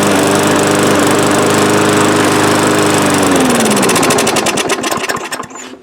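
A 21-year-old Yard Machine push lawn mower engine runs loud and steady at close range, its even drone holding, then winding down into sputtering, uneven firing before it cuts out.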